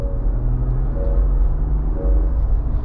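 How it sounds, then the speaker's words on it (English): A BMW-powered 2024 INEOS Grenadier Fieldmaster engine hums steadily from inside the cabin, a low continuous rumble with faint rising turbo whine layered on top, no voices. "So you have the turbo spooling up there"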